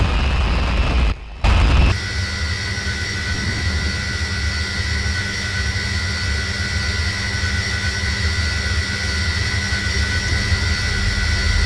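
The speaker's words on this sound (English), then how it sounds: "while we're going through the engine startup" An Avro Vulcan jet engine in a video game whines and roars steadily after a brief dropout during startup, a continuous high-pitched turbine hum holding at a constant level.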